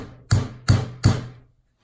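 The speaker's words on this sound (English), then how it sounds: "take this small hammer and just pin a couple of times" A small hammer strikes the pin of a Solingen Biedermeier straight razor three times in quick, even succession, each tap a crisp, close metallic knock that dies away quickly, with no talk over it.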